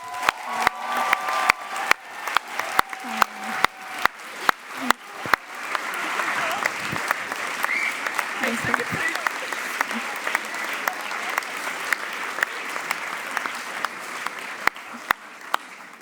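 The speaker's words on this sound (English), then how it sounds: "Big applause, please." Audience at a speakers night of a European forum applauds organizer Andrea, opening with a few sharp, rhythmic claps that swell into a long, dense round of clapping with faint cheers, fading at the close.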